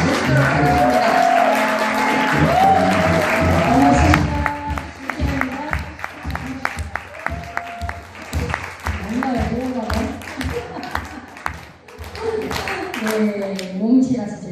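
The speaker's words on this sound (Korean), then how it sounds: "김아훈님을 큰 박수로 모시도록 하겠습니다." Audience applause welcoming a speaker onto a stage at a company presentation, steady clapping throughout with a host's voice talking over much of it.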